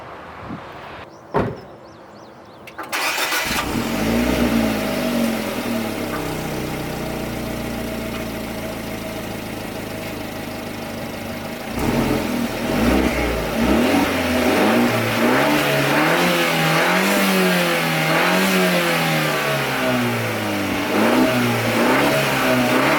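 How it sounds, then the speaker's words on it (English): A Fiat 124 Spider sports car engine starts and idles with a throaty exhaust rumble, then revs repeatedly in rising and falling bursts, loud and close. "So I'm gonna set the camera up so you guys can hear that exhaust note."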